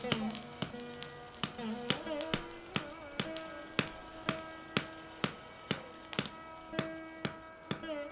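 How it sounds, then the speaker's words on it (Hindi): A blacksmith's hammer beats red-hot, softened iron to shape it, landing loud, close metallic strikes in a steady rhythm of roughly two blows per second, each ringing briefly, with no talk. "आकार देने के लिए हथौड़े से पीटा जाता है"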